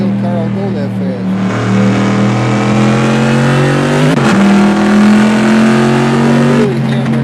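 A real car's engine revs hard and steadily while climbing a hill, sustained and loud throughout with rising pitch toward the end, and voices talk over it.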